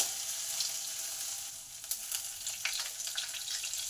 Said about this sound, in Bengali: এইগুলোকে ভালো করে ভেজে নেব